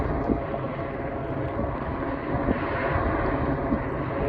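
Channel 11 news helicopter flying overhead near the Key Bridge cleanup, a steady broadband rotor and engine roar that holds at an even, moderately distant level throughout, mixed with some wind noise.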